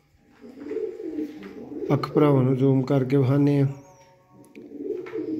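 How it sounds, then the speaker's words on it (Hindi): Rare pigeons at a breeder's loft cooing in a close, loud burst of rhythmic throaty coos, with someone talking before and after. "नायाब कबूतर दोस्तों"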